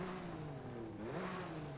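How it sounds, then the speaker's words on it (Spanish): A BMW M4 Competition six-cylinder engine idles and revs nearby with a steady hum that rises and dips in pitch during one short blip. "Vamos a arrancarlo para ver cómo suena y para ver todas las pantallas encendidas."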